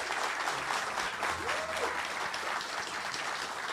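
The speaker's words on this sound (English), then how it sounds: "please give a round of applause for Jen Chan, head of studio for Darkpaw Games" A crowd applauds at the Fippy Fest 2024 gaming event for the Darkpaw Games studio head, with steady dense clapping that stays fairly faint and distant and carries through the whole stretch.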